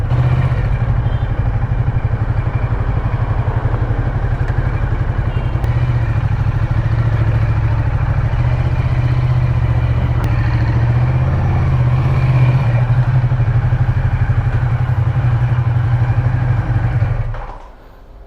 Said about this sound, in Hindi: and this is a L twin engine bike